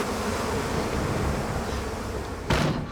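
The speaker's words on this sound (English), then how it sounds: "I've never seen bees attack like that." A dense, steady buzz of many bees swarming close by, with a brief louder rush near the end.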